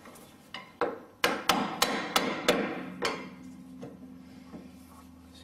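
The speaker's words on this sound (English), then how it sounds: "give it a tap to open it up" Hammer taps on a Land Rover steering joint, about eight sharp metallic strikes in an uneven rhythm, loudest in the middle and tapering to lighter knocks, close by with no talk.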